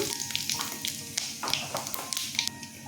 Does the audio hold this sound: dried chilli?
yes